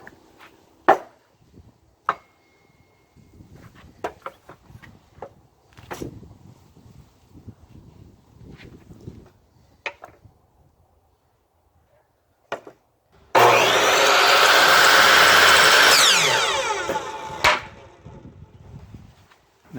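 A power saw trims the ends of stacked wood boards, a loud sustained cutting burst of a few seconds following scattered knocks and handling sounds of the wood.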